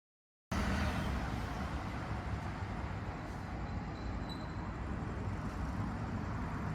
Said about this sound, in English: the traffic is not much at this point, but we can still hear some engine noise and tire friction